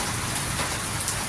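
Steady rain at night hisses across surfaces in a dense, even wash of drops, continuous and fairly near with no voices.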